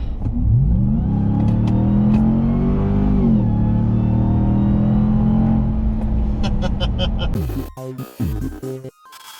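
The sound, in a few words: RAM TRX pickup truck accelerating at full throttle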